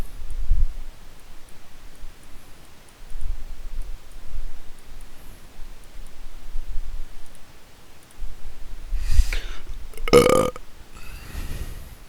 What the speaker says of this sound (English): Just burping and shit.